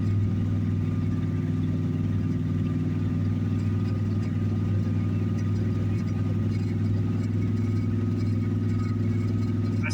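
A 1986 Dodge D-150 with a carbureted engine and no choke idles after a cold start, a steady low rumble holding even and unbroken throughout, close and fairly loud with no talk.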